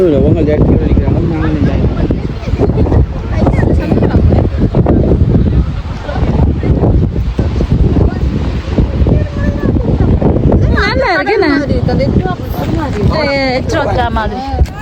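Strong wind roars over the microphone at the seaside, gusting loud and unbroken for the whole stretch. Voices can be heard faintly toward the end.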